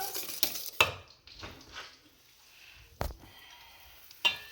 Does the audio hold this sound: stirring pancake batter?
yes